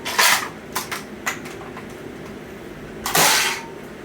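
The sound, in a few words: crossbow firing demo shots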